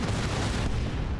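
A converted turret blowing up in Warhammer 40K: Dawn of War 2 Retribution during an Orkz battle, a heavy, rumbling blast amid a continuous wall of booming battle noise with no talk over it.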